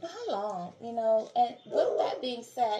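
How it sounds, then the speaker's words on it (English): A dog barks in the background, its brief barks and yips mixed beneath steady close speech from one person talking throughout. "Excuse my dog barking in the background."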